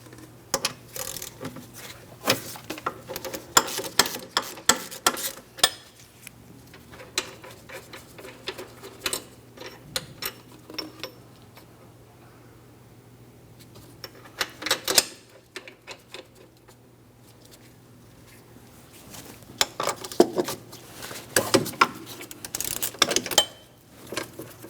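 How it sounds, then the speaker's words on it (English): A ratchet works the rear brake caliper mounting bolt on a 2003-2007 Cadillac CTS, giving bursts of quick, close clicking with pauses between them, plus occasional metallic taps and handling noises over a low steady hum. "I'm going to fully remove my first mounting bolt."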